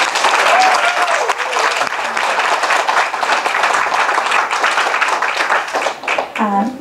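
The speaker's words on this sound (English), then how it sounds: "Why don't you give him a big round of applause?" Sustained applause from the audience at a Washington Coalition for Comfort Women Issues anniversary ceremony, dense and even, with a speaking voice briefly audible early on and again as the clapping thins at the end.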